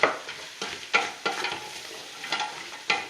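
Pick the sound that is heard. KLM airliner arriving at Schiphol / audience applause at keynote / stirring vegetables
stirring vegetables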